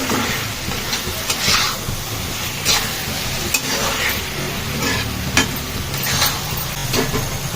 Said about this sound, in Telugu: ఇంక ఇప్పుడు మొత్తం కలిసేటట్టు కలిపేసుకోవాలి.